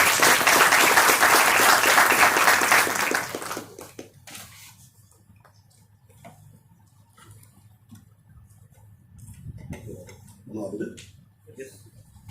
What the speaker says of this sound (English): So let's welcome him with a big round of applause,